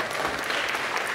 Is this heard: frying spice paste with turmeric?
no